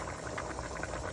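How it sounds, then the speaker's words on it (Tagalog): A cooking pot holding a dish with green pepper boils on the stove, a soft continuous bubbling and simmering heard close and fairly quiet, without talking. "Kumukulo na guys."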